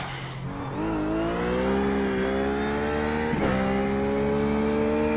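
A Ruf GT3 race car engine in iRacing at Sonoma revs hard under full throttle, its harmonic whine climbing steadily and loud with a brief gear-change dip partway through, no voices over it.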